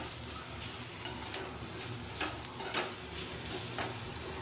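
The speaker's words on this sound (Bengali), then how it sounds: "এবার একটু আঁচটা বাড়িয়ে দেবো যাতে বাঁধাকপিটা কুক হয়ে যায়।" Cabbage frying with spices in a pan over raised heat, a steady close sizzle with occasional stirring scrapes and light clinks.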